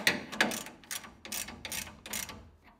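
Ratchet snugging down leaf spring bolts on a 1980-1996 Ford Bronco, a run of quick clicking bursts, close and fairly quiet, with short pauses between strokes.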